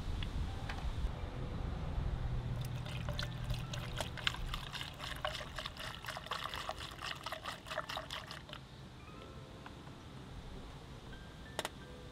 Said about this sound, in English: pour some coolant in until we're at that level where it's right in between the min and the max line